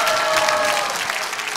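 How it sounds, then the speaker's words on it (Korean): An audience claps loudly and steadily at a political party appointment event, a dense, continuous round of applause filling the hall with no talk over it. "자, 큰 박수를 보내시기 바랍니다."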